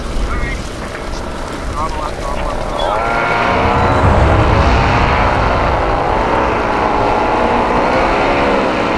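A paramotor engine is given a little throttle while flying in strong air, a loud, steady drone that builds after a few seconds and holds over heavy wind noise on the microphone.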